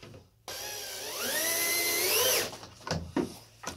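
A power drill drives screws into wooden battens while a workshop cabinet is built, one long whining run with rising pitch, then a couple of short bursts, loud and close.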